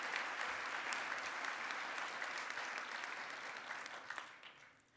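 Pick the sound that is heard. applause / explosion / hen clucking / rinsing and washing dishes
applause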